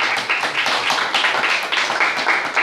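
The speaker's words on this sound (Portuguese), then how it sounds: "A salva de palmas para o Senhor Jesus mais forte." A church congregation claps together in steady, dense applause with a rhythmic pulse, close and continuous for a few seconds.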